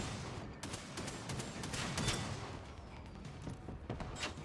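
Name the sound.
gunfire from shooting in the video game Generation Zero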